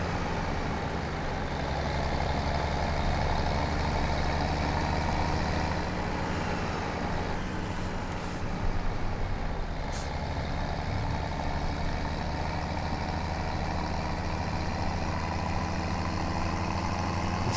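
A tractor in Farming Simulator 2017 drives along with a steady, continuous engine drone that stays loud and even throughout, with no talk.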